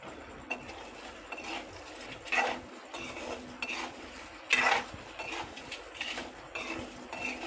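Mustard seeds frying in a pan of lemon rice tempering, with repeated metal spoon scrapes and clinks against the pan over a soft, low sizzle.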